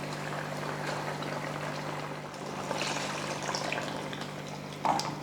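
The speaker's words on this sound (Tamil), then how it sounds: "அடுத்து குழம்புக்கு தேவையான தண்ணி சேர்த்து விட்ருவோம்." Water is poured steadily into a pot of Tamil kuzhambu curry in a home kitchen, making a faint, continuous splashing stream with a small clink near the end.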